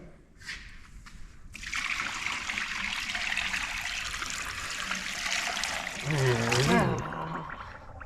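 Water gushes steadily into a container for several seconds, a continuous rushing pour, with a brief voice heard near the end over the flow.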